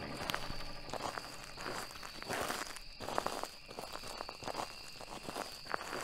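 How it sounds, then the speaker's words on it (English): Footsteps crunch over twigs on the ground at a campground at night. The steps are faint and uneven, with scattered snaps and a steady quiet hiss underneath. "It's in my footsteps."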